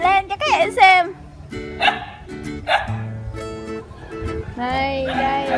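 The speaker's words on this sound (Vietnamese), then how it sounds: "Làm cho hai con chó nha, nó chạy ra nó sủa luôn rồi kìa." Two dogs bark outdoors while a woman flies a homemade plastic kite, the barks mixed with her talk and musical tones in the background.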